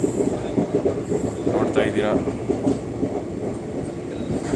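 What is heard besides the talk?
train travelling on rails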